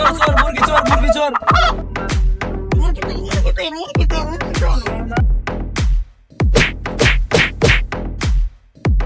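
Chickens cluck and squawk in rapid, agitated bursts, loud and close, with a rooster-like cry and people shouting over the commotion.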